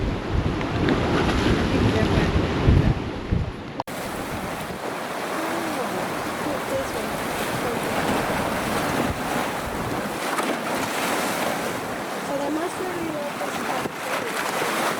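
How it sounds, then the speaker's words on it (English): Big ocean waves break on the North Shore of Oahu, Hawaii, in a continuous heavy roar mixed with strong wind buffeting the microphone, with one loud surge near the start. "Here comes a big wave."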